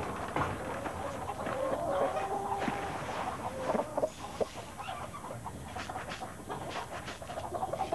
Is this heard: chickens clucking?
yes